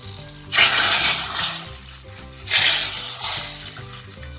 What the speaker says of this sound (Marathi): तीन मिरच्या आणि अर्धा चमचा लाल तिखट यावरती आता आपल्याला तडका देऊन घ्यायचा आहे